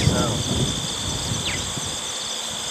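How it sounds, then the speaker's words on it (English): Crickets chirping steadily in a prairie wetland, a constant high insect drone with wind and grass rustling underneath, fairly faint and without pause. "Crickets."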